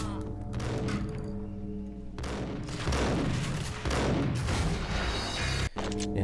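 Rapid gunfire and booming shots from the PC game Max Payne, loud and dense, with several bursts running almost without a break and one sharp cutoff near the end.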